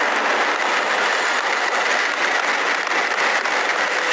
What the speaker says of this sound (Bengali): কিন্তু ট্রেনটা জোরে চালাও